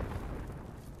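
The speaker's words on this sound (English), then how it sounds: "that was a big explosion" A big explosion in the video game Fallout 4 on Very Hard difficulty gives a sustained low, rumbling roar that stays loud and fairly even across the whole second, with no voices over it.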